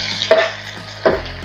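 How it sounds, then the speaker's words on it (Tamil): Ginger garlic paste and onions being stirred in a pan for a mushroom dish: two distinct close scraping strokes over a low frying hiss, brief and fairly loud, with no voices. "இஞ்சி பூண்டு பேஸ்ட் இப்போ லைட்டா அப்படி ஒரு கிண்டி, இப்படி ஒரு கிண்டி"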